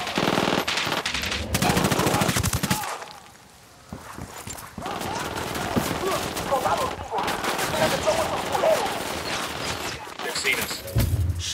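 Gunfire in the video game Tom Clancy's Ghost Recon Wildlands, loud rapid bursts of automatic fire with a short lull, then continued shooting and game noise, under occasional voices.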